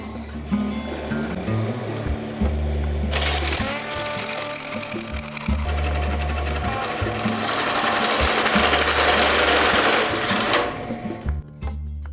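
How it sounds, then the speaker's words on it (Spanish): Loud, steady mechanical whirring and grinding of a power drill boring a 2-centimetre hole in a steel plate, running in long bursts with brief pauses between. "Y perforamos con el taladro un agujero de 2 centímetros."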